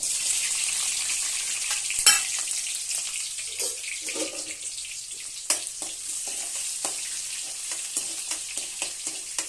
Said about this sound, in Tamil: வெந்தயம் பொறிச்சிட்ருக்கு கடுகு போட்டிருக்கேன் கூடவே உள்ளியும் போட்டுக்கிறேன்